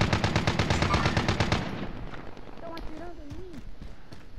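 Rapid automatic gunfire in the Call of Duty: Modern Warfare battle royale, a loud sustained burst of shots up close that breaks off into quieter ambient game noise with a few distant pops.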